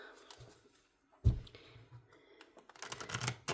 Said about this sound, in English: I will shuffle this direction 5 times